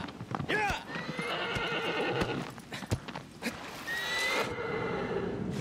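Horse sounds from the video game Shadow of the Colossus, with hoofbeats and a sharp whinny near the start, then scattered clops and rustling movement, fairly close and prominent over game ambience.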